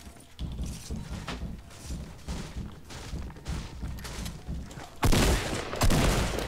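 Pump shotgun blasts in Fortnite Battle Royale ring out amid busy in-game action, with a loud, dense burst of gunfire hitting near the end.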